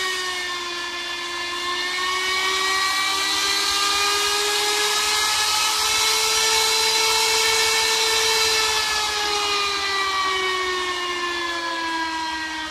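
A DC motor driven at 8 volts through an adjustable PWM speed controller module spins fast with a high, steady whine that swells slightly and then eases. It is close and loud, with no talk over it.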